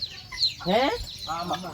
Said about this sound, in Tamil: பெரிய கோழி வீட்ல இருக்குது